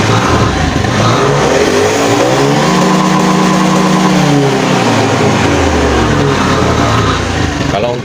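A motorcycle engine with an unsteady, stalling idle is revved hard: a loud, close rise in pitch that holds and then falls back to idle.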